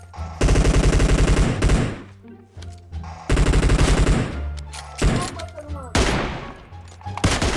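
Bursts of automatic gunfire in the mobile battle royale game PUBG Mobile, three loud rapid volleys separated by short gaps, with scattered single shots and echoes between them.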